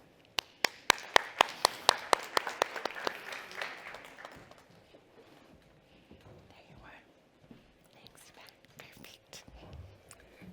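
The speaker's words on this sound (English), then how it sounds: "So please, a round of applause for Bianca." Audience at a cleantech energy tech summit breaks into applause, with dense, crisp clapping over the first few seconds that thins out to scattered claps and soft murmuring.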